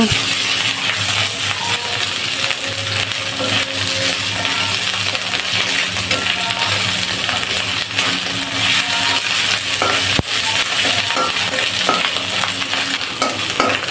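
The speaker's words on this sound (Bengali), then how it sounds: "এবারে একটু রসুন আর আদা বাটা দেব এইটা একটু হালকা ভেজে নেব" Garlic and ginger paste fries in a pan after the onions, giving a loud, continuous close-up sizzle. Frequent scraping and clinking from stirring run through it, with one sharp metallic knock near the end.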